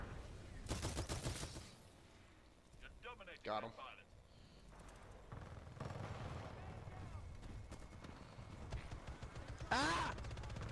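Titanfall 2 multiplayer smart pistol fire, as a few quick bursts of shots amid a busy game mix with chatter, explosions and other effects, with a loud sharp shot near the end.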